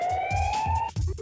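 A rising, wailing siren sweeps upward over a pulsing low beat in a Jet Set Radio music track, with a sharp transform-scratch cut near the end.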